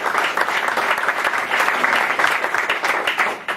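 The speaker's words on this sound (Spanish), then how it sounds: "un aplauso y felicidades a los organizadores" Steady, dense applause from an audience at a water-rights annual meeting, a continuous wash of many hands clapping at fairly close range for several seconds with no voices on top.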